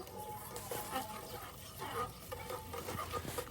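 Chopped onions frying in mustard oil with cloves, cinnamon and cardamom, a soft sizzle broken by intermittent stirring scrapes, fairly quiet and with no voices.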